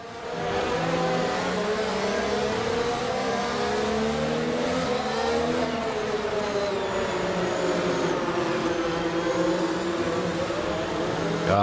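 An F1 race car engine in F1 22 at the Miami round holds a loud, continuous high-pitched whine. The pitch rises and falls gently as the car cruises at low speed with no talking.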